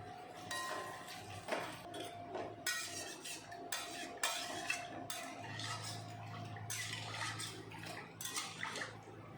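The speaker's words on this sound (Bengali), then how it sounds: "আমি এখন দিয়ে দেব পরিমাণ মতন জল।" Water is poured into cooked-down masala for a banana-flower kofta curry, a splashy running pour with clinks of a pot and utensil, fairly close, lasting several seconds.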